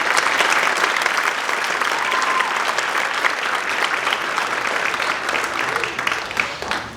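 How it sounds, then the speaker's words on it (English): An audience at a school's winter band concert claps for the student musicians, a thick wash of steady applause that slowly fades toward the end. "Give them a round of applause."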